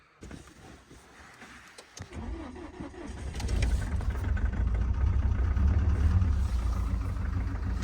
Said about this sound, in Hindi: ये देखो भाई अब करेंगे गाड़ी को स्टार्ट